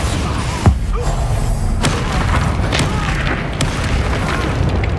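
Confringo and Bombarda spell blasts in the Hogwarts Legacy video game, with a sharp booming impact early on over a dense, loud rumbling battle bed and occasional further thuds.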